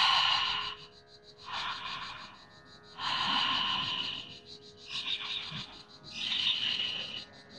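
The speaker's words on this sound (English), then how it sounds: "It's a bit like exhaling with your mouth open. Notice the sound you make." Open-mouthed exhalations during hatha yoga breathing practice, four or five long breathy rushes of air with pauses between, close and fairly soft, with no talking.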